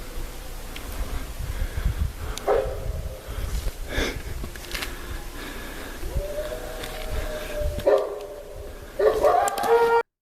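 Wolf barking close by in the wild outdoors, a few sharp rough barks and yelps spread across the stretch amid rustling movement, loud and near, with no talk.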